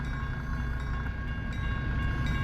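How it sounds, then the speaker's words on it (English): A long train rumbles past in American Truck Simulator, a dense, steady roar of rolling wagons with faint rattling and clatter, loud and continuous throughout with no talk. "Oh, we got the long train mod in here."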